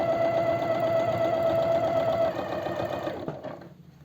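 Sewing machine stitching the edge of elastic fabric, a steady close mechanical whir with rapid needle rhythm that slows and stops near the end.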